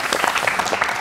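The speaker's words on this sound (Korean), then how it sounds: "일단 박수를 좀 주십시오." Applause from an audience at a school-violence panel talk in Gwangju, a dense steady patter of many hands clapping close up, continuous for about a second with no voices over it.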